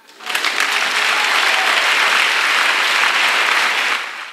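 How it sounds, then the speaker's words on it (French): Loud, dense applause from a large crowd at a retreat for unmarried people swells quickly, holds steady for several seconds, then fades out. "Acclamation."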